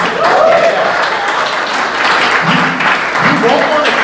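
Loud, continuous applause from an audience, dense clapping filling the room, with a few voices and cheers rising out of it near the end.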